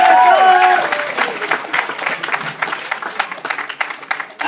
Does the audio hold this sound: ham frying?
no